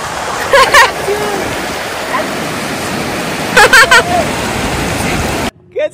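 Waterfall and flowing water in Pahalgam, Kashmir: a loud, continuous broadband roar of rushing water close by, with brief voices and shouts cutting in, before it stops abruptly near the end.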